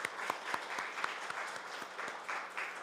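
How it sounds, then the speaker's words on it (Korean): Church congregation clapping after a special song, a soft, somewhat distant patter of applause with a few sharper individual claps standing out. "잘하셨고 고맙고 감사하다고 힘차게 박수 한번 해주셨으면 좋겠습니다"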